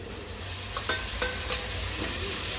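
Onion and tomato sautéing with turmeric in a pan, a steady sizzle with a few soft scraping stirs, close and continuous with no voices.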